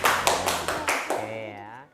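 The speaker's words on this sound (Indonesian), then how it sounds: "coba tepuk tangan ya" Students in a classroom clap their hands in a handful of sharp, evenly spaced claps, close and fairly loud, fading out as a voice trails off at the end.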